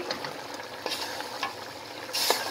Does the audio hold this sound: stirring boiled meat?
yes